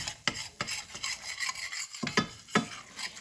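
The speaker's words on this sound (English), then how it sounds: "You just keep all that stirred up in it, and you'll begin to see your roux changing colors" Roux of bacon grease and flour being stirred in a pan for tomato gravy, a spoon scraping the bottom in repeated rasping strokes with a soft sizzle underneath, close and moderately quiet, no talking.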